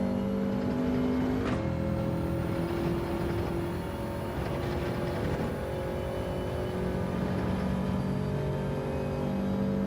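A race car in Gran Turismo 7 daily-race practice runs at high revs, its engine note dropping sharply at an upshift early on, then building and steadying through the next gear, close and continuous with no talking.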